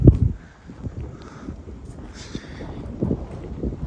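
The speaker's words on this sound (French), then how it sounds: "Alors on entend le vent." Wind gusting across the microphone at Fréjus harbour, a steady low rumble with soft swells and buffeting bursts, loud and close throughout.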